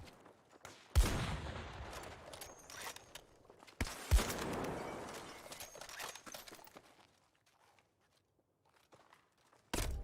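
Gunfire in a modded video game: two sharp, loud shots about three seconds apart, each trailing into a rumbling decay, followed by quieter clatter and a final crack at the end.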